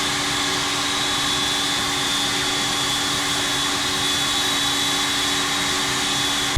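A Rolls-Royce Trent jet engine on an Airbus A330 in the X-Plane 10 flight simulator runs with a steady loud whine and broadband roar, unchanging and continuous with no speech.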